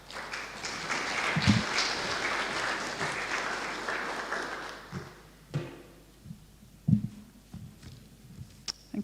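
Applause from a conference audience at a West Africa mining security event as a woman takes the stage, a loud sustained ovation lasting about five seconds, then fading to scattered thumps and room noise.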